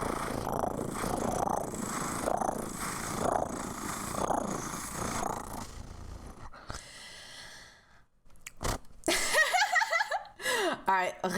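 A person imitates a cat's purr with the voice, a long rhythmic rumbling under spoken talk, followed by brief voiced bursts and chatter.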